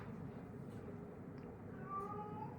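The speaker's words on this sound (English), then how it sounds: "You're going to hear a cat cry. She wants attention." A cat gives a drawn-out, plaintive meow, fairly faint against a low background rumble.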